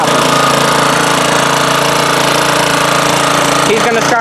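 A 1987 Honda HRA214 two-wheel-drive lawn mower runs at full throttle, a loud, steady, close engine drone filling the whole stretch with a slight shift near the end.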